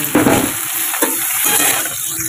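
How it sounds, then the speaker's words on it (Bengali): Broccoli and potatoes sizzle and crackle in hot oil in a home kitchen pan, a loud, continuous frying hiss with small stirring knocks near the start and around one second. "এই ব্রোকলি আলুটা একটু ভেজে নিই"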